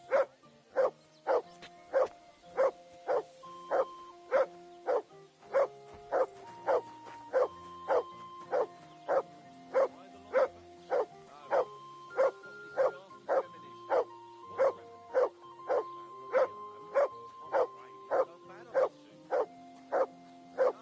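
A dog barks steadily throughout, short evenly spaced yaps repeating for about twenty seconds, close and fairly loud, alone without any talking.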